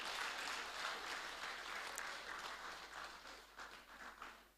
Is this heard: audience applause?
yes